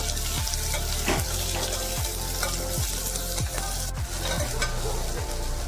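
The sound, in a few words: onion pieces frying and being stirred in pan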